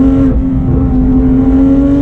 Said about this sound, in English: There we go. Downshift into second.